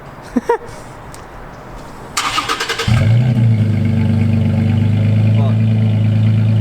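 A Toyota Tacoma with an MBRP exhaust cranks over and starts after a few brief voices, then settles into a loud, steady, deep exhaust note that carries on to the end.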